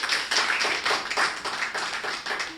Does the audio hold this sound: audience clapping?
yes